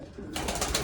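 Pigeons in a loft coo and flutter close by in a brief, dense burst of bird sound with no talking.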